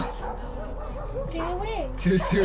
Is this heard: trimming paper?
no